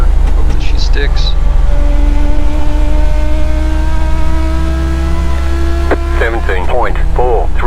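A Legends race car engine drones loud and steady at Concord Motorsport Park as it turns into a corner, a constant low roar with a driver's voice speaking over it near the end.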